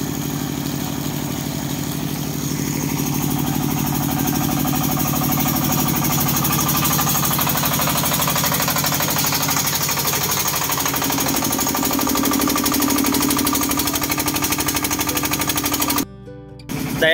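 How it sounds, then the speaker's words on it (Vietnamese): A 5.5 hp engine-driven water pump runs at a steady, loud mechanical clatter with a fast rhythmic pulse, continuous through most of the clip before cutting briefly near the end. "Đây là lúc cái dàn máy nổ đây."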